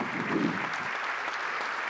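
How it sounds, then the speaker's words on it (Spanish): A short burst of steady audience applause at a civic event, a crowd clapping evenly at moderate volume with no voices on top. "un aplauso para ellos y para Marina Echevarría"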